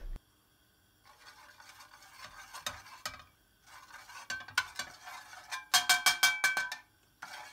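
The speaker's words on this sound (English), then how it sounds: "Stir them together for a minute to release the flavours." Tomato paste and fenugreek stirred together in a pan, heard as quiet bursts of scraping and clinking of a utensil against the pan with faint sizzling between pauses, ending in a run of quick metallic taps.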